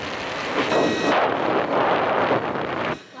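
A small jet fan runs at high speed, blowing a strong, steady rush of air close to the microphone before it cuts off abruptly near the end.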